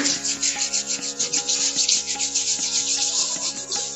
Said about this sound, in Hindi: सो हम सब अपने हैंड्स को रब करेंगे